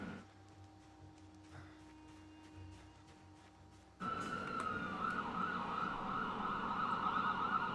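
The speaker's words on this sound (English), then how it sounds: "Apparently the sirens are starting early tonight." Emergency vehicle sirens sound outside at night through open windows, faint and distant at first, then suddenly louder and steadier after a few seconds, over low background noise.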